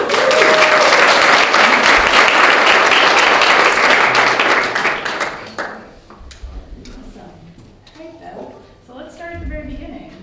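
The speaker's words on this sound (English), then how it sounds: "So everyone, give her a round of applause." Audience applause at a press day for the musical Come From Away, loud dense clapping for a speaker that dies away after about five seconds, leaving scattered claps and a voice starting to talk.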